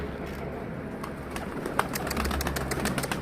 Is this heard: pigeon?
yes